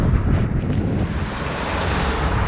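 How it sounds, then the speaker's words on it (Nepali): Strong, cold wind gusting outdoors in winter, roaring loudly into the microphone in a continuous buffeting rush with no other sounds. "कस्तो जाडो डेन्जर हावा चलिरहेको छ"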